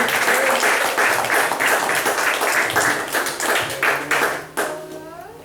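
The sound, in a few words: applause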